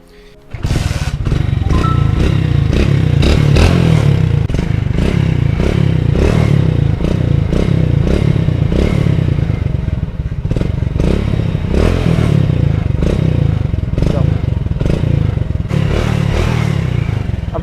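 A used motorcycle fitted with a Euro 1 silencer idles after starting, a loud close, steady thumping exhaust rhythm with some clatter, running continuously without talk.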